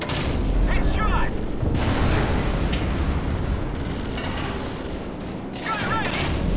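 Gunfire and explosions in Call of Duty 4: Modern Warfare, a dense, steady barrage of shots and booms filling the whole stretch, loud and close, with radio-style voices calling out over the din.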